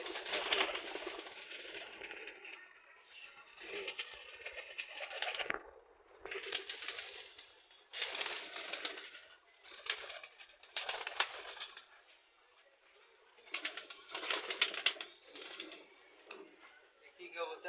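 A pair of Giribaz pigeons held for sale coo in soft, repeated rounded bursts, close by, with pauses between calls and some voices mixed in.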